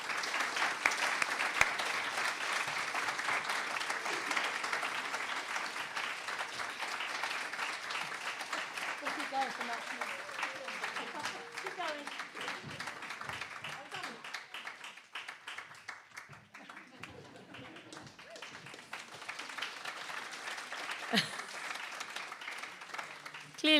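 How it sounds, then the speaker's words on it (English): A long round of applause at a youth awards ceremony as a winner collects an award, dense clapping that thins and swells over many seconds, with a voice talking over it. "can we please give a loud round of applause as Nat comes to collect her award"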